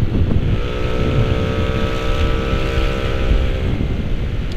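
Engine of a tuned Honda Vario 125cc racing scooter holds a loud, steady drone with a strong harmonic whine that barely changes pitch, alone with no talk, throughout the clip.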